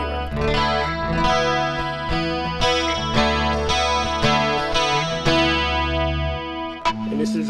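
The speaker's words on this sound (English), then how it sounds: "So this is the clean electric and acoustic with chorus and reverb." An Ibanez Montage guitar plays chords with a clean electric tone blended with acoustic, washed in chorus and reverb, ringing alone with no talk.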